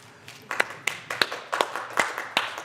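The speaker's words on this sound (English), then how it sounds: "give a big thanks and a round of applause for Ruben" A small audience gives a short round of applause for Ruben at a Hashan Bahithaj gathering, thin scattered claps rising and fading over a few seconds, fairly quiet.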